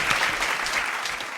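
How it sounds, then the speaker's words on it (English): A comedy game show's studio audience breaks into a short, full burst of clapping that holds evenly throughout, with no voices over it. "You can applaud."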